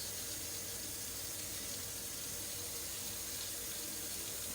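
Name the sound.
spatula being rinsed under a running tap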